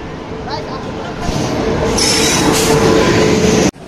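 A train rolls in with a loud, steady rumble and a high wheel squeal, with voices talking over it until a brief drop at the end.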